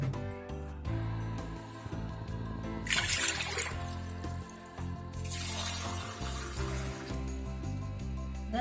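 Water, two and a half cups, poured into a pot to boil rice for chicken biryani, a soft trickling with two louder gushing bursts, fairly quiet, with no one speaking.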